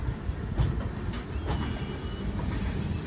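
A train to Pune in Maharashtra rolls along the rails with a continuous low rumble and faint rhythmic clacks of the wheels, heard from inside or close by.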